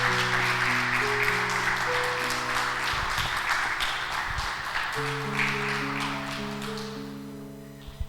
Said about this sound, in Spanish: Le damos un fuerte aplauso, ¿no? De bienvenida.